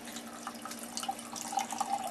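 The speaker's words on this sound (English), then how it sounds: "Give it a gentle pour and watch the sediment." Home-brewed beer is poured gently into a glass, giving a soft steady trickle and light fizzing with faint bubbly ticks, fairly quiet and close.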